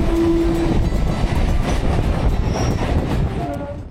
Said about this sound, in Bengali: সোনারপুর থেকে আমাদের ট্রেন রওনা দিল আমাদের গন্তব্য ক্যানিং স্টেশনের উদ্দেশ্যে।